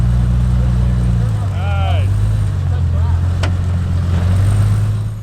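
An off-road vehicle creeps forward over rocks on the Cleghorn trail, its engine a steady low rumble close by, with voices talking over it.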